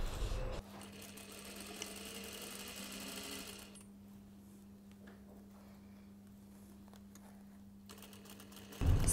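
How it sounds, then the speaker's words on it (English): Sewing machine stitching the sleeves of a cashmere jacket, a steady continuous motor hum with rapid needle clatter running for most of the stretch, then stopping abruptly near the end. "Don't stretch the sleeves when stitching them."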